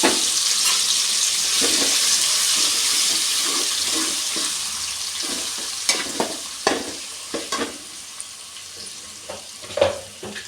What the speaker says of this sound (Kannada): ರುಬ್ಕೊಂಡಿದ್ದು ಮಸಾಲೆ ಹಾಕ್ಕೊತಾ ಇದ್ದೀನಿ.